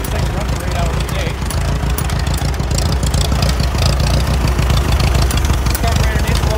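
The engine of a Massey Ferguson 2200 forklift of unknown working condition, with a carburetor needing adjustment, runs with a loud, continuous, rough rumble that sputters and knocks throughout.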